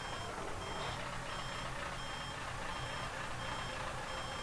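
A truck in the driving simulator Rigs of Rods gives off a steady run of evenly spaced, high reversing beeps over a low engine rumble, moderately quiet and with no talking.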